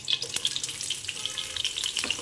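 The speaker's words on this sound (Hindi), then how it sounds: "उसके बाद जो है ना तड़का लगाते हैं।" Tadka tempering for lentil dal sizzles and spits steadily in hot oil, a loud close frying crackle with bursts of stirring throughout, no voices over it.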